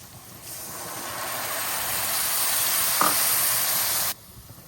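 A splash of water hits frying spices (turmeric, chili, coriander) in a hot pan, bursting into a loud, steady sizzle and hiss that holds for several seconds before cutting off abruptly.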